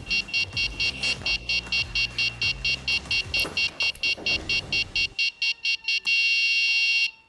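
A homemade DIY home alarm buzzer beeps in a fast, steady series of loud electronic pulses, ending in one long continuous tone with no one speaking.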